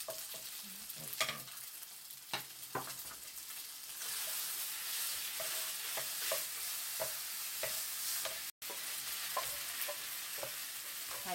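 Potato-starch japchae noodles with colourful vegetables and soy sauce are tossed in a hot pan, producing repeated scraping stirs and clacks over a continuous sizzle that swells midway, with one sudden brief dropout.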